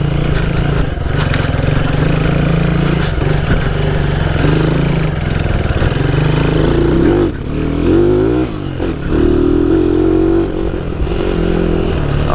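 A Honda C90 motorcycle on an offroad ride, its small engine revving loud and close with a continuous buzzing drone that rises and falls through the gears, a brief dip partway through.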